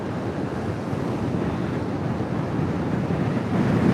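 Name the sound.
sea waves on the shore at Blackpool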